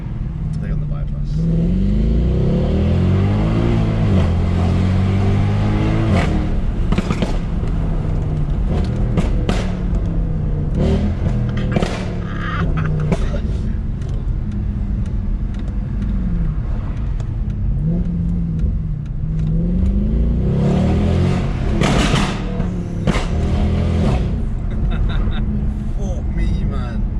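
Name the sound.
Mercedes C63 engine revving and accelerating while driving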